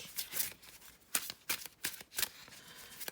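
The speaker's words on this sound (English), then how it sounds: "it's a good shuffler. It feels nice and it sounds lovely in your hands." Crisp bursts of a tarot deck being shuffled, several quick riffles in an uneven rhythm, close up and fairly quiet, with no talking.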